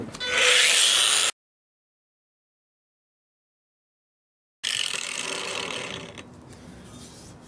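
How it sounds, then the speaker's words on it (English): A 28 volt cordless grinder with an aluminum-rated flap wheel deburring metal, a loud close rasping whir that cuts off abruptly, then after several seconds of silence returns as a second steady grinding pass that eases slightly toward the end. "This is a aluminum rated flap wheel, and it is on a 28 volt grinder."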